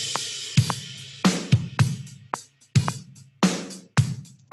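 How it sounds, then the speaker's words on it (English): A Logic Pro X virtual drummer plays a loud, simple groove: heavy kick and snare hits on a steady beat with bright cymbal wash, close and prominent with no talking. "So loud and simple sounds like this."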